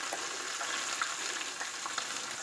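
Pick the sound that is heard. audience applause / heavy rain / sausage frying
sausage frying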